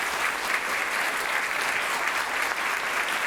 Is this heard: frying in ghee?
no